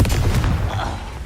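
A Confringo fire spell cast in Hogwarts Legacy lands as a loud, dense burst of explosive blasts that crackle and rumble without a break for just over a second.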